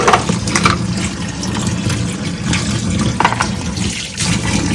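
Running tap water splashes steadily over katla fish being washed in a kitchen sink, a continuous close rush with small surges and no talking.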